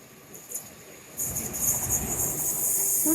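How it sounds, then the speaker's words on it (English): A train rumbles past at moderate distance along the seawall at Dawlish, rising to a steady whooshing roar with a high metallic hiss and low rumble underneath. "First proper train of the day."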